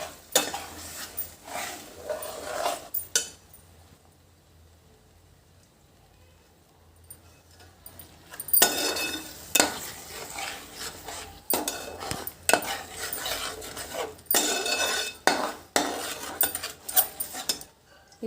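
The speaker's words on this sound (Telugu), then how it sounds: "ఈ పేస్ట్ అలా కలుపుతూ ఉండాలి. కొంచెం ఆయిల్ పైకి తేలినంత వరకు కలుపుకోవాలి." A spoon scrapes and stirs spice paste in hot oil in a pan for baby corn curry. Bursts of close stirring and faint sizzling are broken by a quiet pause in the middle.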